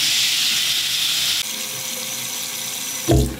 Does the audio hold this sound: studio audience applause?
no